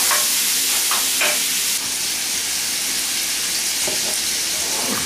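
Bacon frying in a pan gives a steady, loud crackling sizzle with a few brief scrapes of stirring, no voices.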